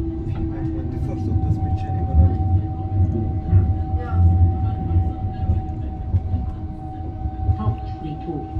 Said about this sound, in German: The U in Germany is U for underground, underground train.